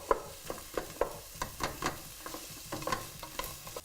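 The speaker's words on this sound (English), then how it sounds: "So just tip the onions in," Onions sizzling and frying in a pan as they soften, with soft crackling and intermittent stirring clicks close by, no voices.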